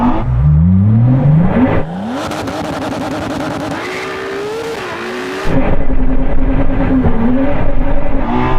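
A Ferrari SP3 and a Pagani Huayra race flat out, their engines roaring loud and close, revving up through the gears with rising and falling pitch and a sudden surge in volume partway through.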